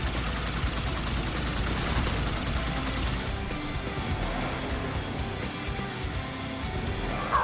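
Heavy, continuous gunfire from weapon emplacements in a video game, a dense loud barrage that rattles on without pause and eases slightly toward the end.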